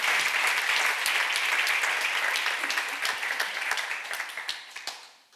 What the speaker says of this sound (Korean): 박수로 하나 더 해주세요.